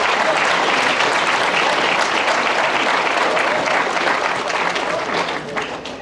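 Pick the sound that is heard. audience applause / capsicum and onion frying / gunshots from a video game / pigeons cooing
audience applause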